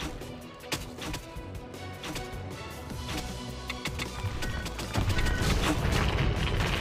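Gunfire in the video game CastleStorm, rapid repeated shots and bursts crackling densely throughout, growing louder toward the end.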